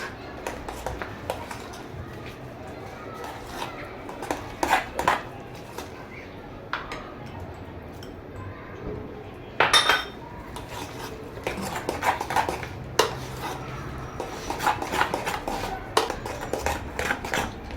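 Spoon scraping and clinking against a dish as potato gratin ingredients, including sliced olives, are stirred together, with scattered sharp taps and knocks at irregular intervals over quiet background noise.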